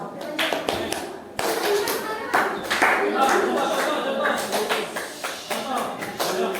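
Students in a classroom clap hands one after another in sequence, a run of sharp, close claps with uneven gaps, with children's voices and shuffling between them.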